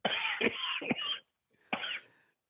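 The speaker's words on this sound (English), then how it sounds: "Go take care of that cough." Two harsh coughs close together, followed after a short pause by a third, sharp and near, with silence between.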